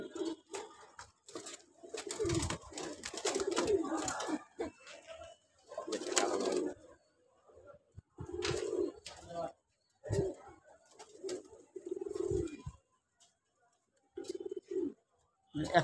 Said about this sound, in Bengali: কি ভাই নর কবুতর?